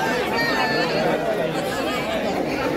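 A dense festival crowd chatters steadily at the Narali Purnima celebration in Worli Koliwada, Mumbai, a continuous babble of many voices close around.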